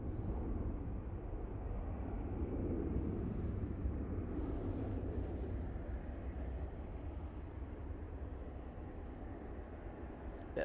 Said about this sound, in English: That Ryanair is just coming in